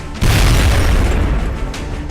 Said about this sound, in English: So, grenade out. Grenade out. At the very least, this will destroy your cover.